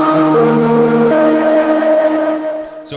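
A thick, growling cross-modulated synth tone with buzzing, gritty harmonics holds a low note in an early-1980s EBM industrial style, its pitch shifting slightly before it fades near the end.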